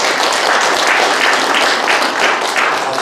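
A church congregation gives a dense, steady round of applause for pastors being installed at a Korean pastors' association service. The sound stays full and unbroken throughout.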